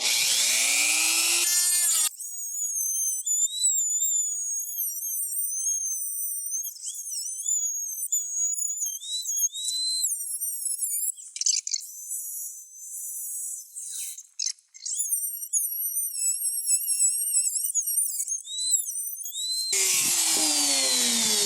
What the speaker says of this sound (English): Basically, just a little sander, and just go in there and sand it.